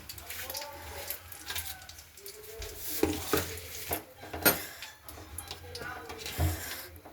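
Potatoes dropped into a cooking pan, soft clattering and stirring scrapes over a light sizzle, close but fairly quiet, with a voice talking over it.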